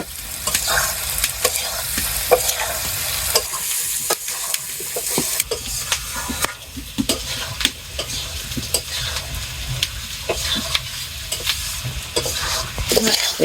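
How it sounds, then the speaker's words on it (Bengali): Curry with potatoes, onions and salt fries in a pan over a wood- and dung-fuelled fire, a loud close sizzle broken by frequent sharp scrapes and clacks of stirring throughout, with no talking. "এখন ভালো করে কষিয়ে নুন দিয়ে দিব"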